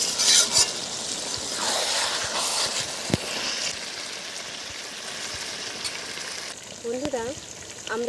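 Free-range desi chicken cooks with ground spice paste in a pan. It sizzles steadily while a spoon stirs it and scrapes the metal with occasional clinks. A voice is briefly heard near the end.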